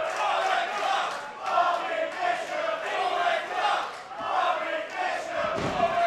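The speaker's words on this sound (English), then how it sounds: "Very, very mixed right here as we hear people cheer for Bobby Bishop." A live wrestling crowd at a Brisbane show roars and chants in a steady, dense wall of mixed cheering that swells and dips throughout, with a voice faintly underneath.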